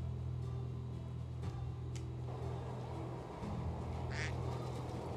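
A duck quacks in the medieval village game Medieval Dynasty, with a few short quacks over a steady low hum of ambient game noise, fairly faint and without speech.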